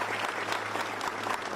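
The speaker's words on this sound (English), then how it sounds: "Sessions received applause as he left the Justice Department today." Applause breaks out as Jeff Sessions leaves the Justice Department, a dense, steady patter of many hands clapping that holds evenly through the short stretch with no voices over it.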